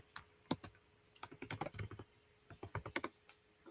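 Rapid typing on a computer keyboard, close-up crisp key clicks in two quick bursts separated by a short pause, with no talking.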